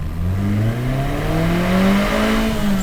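A 1978 Ferrari 308 GTB pulls away in first gear, its engine note climbing steadily in pitch as it accelerates, loud and close from start to finish.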